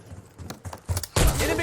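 Gunfire in Call of Duty Black Ops 7 multiplayer: a few short scattered cracks, then a dense loud burst of shots for the final half-second, close and sharp.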